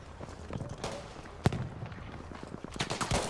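Rapid, irregular gunshots crack in bursts, some sharp and near, others muffled, with a scattered rhythm of Battlefield V gunfire throughout, during a Conquest match in Rotterdam.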